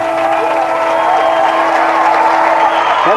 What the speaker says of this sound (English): A nice crowd on hand, giving him a standing ovation for some great all-star performances here tonight